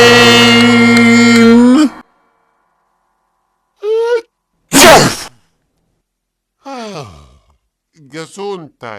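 A single loud, sharp sneeze bursts out near the middle, set among sung tones, a sigh and brief vocal sounds.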